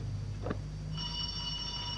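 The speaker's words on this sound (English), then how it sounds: "Mr. Garfield, would you ring the bell?" A small bell rings to summon a servant in a radio drama, with a soft knock or tap first and then a sustained bright metallic ringing tone in a quiet room, no speech.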